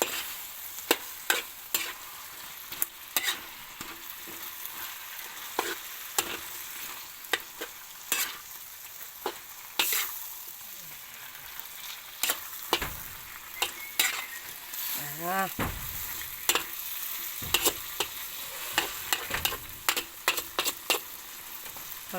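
Banana heart, string beans, okra and sponge gourd sauté in a pan with a steady sizzle, broken by frequent sharp scrapes and clinks of a utensil stirring the vegetables, close and continuous.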